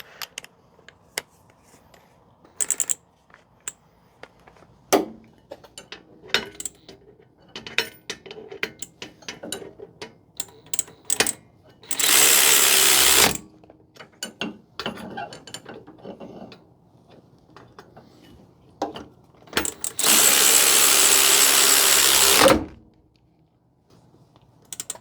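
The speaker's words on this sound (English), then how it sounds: "I got power tools" Bursts from a power impact tool tighten brake caliper bolts on a Jeep Renegade fitted with Hellcat brakes, two long loud buzzing runs standing out among scattered clanks and ratcheting handling noises.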